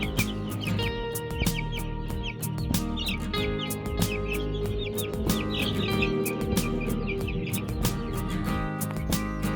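Kuntara chickens in a coop, clucking and chirping calls scattered densely over a steady low background hum, close and fairly continuous with no talk.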